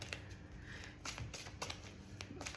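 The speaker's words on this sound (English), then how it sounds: "let's just pull a few cards with what has come through with these elixirs" Tarot-style cards are pulled and slid from a deck, giving several quiet, close papery snaps and brushing flicks in quick succession.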